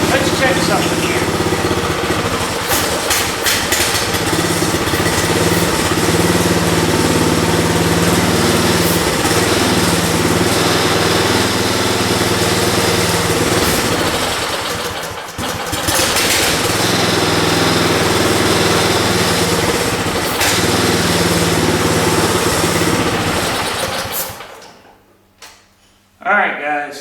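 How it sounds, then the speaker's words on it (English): A rusty small engine with a clogged carburetor runs roughly, its loud, buzzy drone surging and faltering as it struggles to hold an idle, then cuts out near the end. "We have a clogged up carburetor, doesn't want to idle up, doesn't want to do right."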